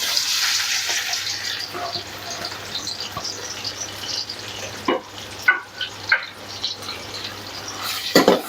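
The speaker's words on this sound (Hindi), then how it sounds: "प्याज को फ्राई करेंगे।" Onion frying in ghee in a kadai makes a soft, steady sizzle, broken by a few sharp clinks and scrapes of a utensil against the pan toward the end.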